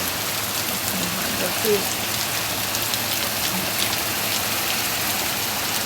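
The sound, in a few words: rain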